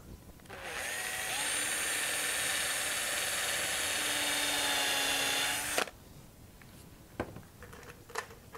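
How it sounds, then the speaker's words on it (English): A power drill bores the first hole into a wooden shelf piece, a loud steady whine lasting about five seconds before stopping abruptly, followed by a few light knocks. "we can now drill our first hole"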